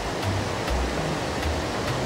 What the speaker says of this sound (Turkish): Şelaleyi göstereyim size.